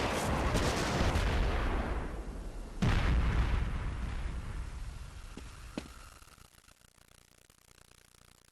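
Submachine gun fire in the video game Half-Life 2, heard as a sustained loud burst of rapid shots. It cuts off briefly, resumes, then fades into a quieter tail with a few faint pops and a sharp click at the very end.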